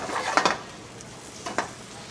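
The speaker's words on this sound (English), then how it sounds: "You're tearing this basil into the oil with the tomatoes." Torn basil and tomatoes in oil in a pan give a soft sizzle, with a couple of brief stirring scrapes near the start and again later, fairly faint and close.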